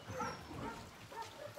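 An adult dog, about three years old and wagging its tail, lets out a few soft, close whimpers and small yips, faint and intermittent over a quiet room.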